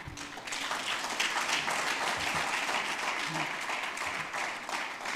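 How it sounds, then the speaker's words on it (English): An audience at an agribusiness investors network event gives a sustained round of applause, a steady wash of many hands clapping at moderate distance, with scattered voices beneath. "Would you just help me to do a resounding round of applause for just being here?"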